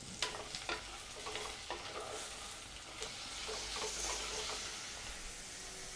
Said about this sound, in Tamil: இப்போது வெங்காயம் நல்லா வதங்கிட்டுருக்கு. நல்லா ஹை ஃப்ளேமில் வச்சுருக்கேன்.